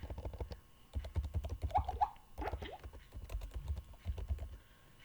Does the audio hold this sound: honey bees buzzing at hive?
no